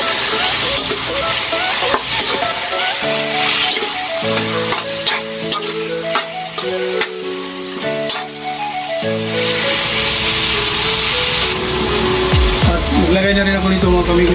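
Pork cubes fry loudly in a hot pan for a Filipino calderita, a steady bright sizzle with stirring scrapes, while a person talks and music with a melodic tune plays underneath.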